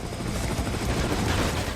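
A helicopter in the shooter game Devil's Third gives off a steady, loud rotor drone that stays even throughout, with no distinct blast standing out.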